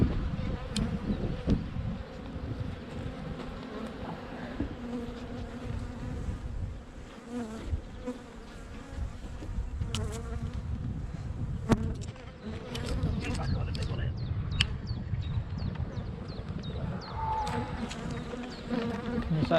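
Honeybees buzz continuously and densely at an open hive during the first spring inspection, a steady close swarm drone that fills the whole stretch without any speech over it.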